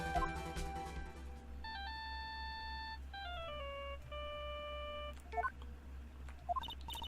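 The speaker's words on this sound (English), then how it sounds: "she also received a phone call from the owner of the phone" A ringing phone in the video game Phoenix Wright: Justice For All sounds as a series of clean electronic beeps. Sustained tones step down in pitch, followed by short chirps over a low steady hum.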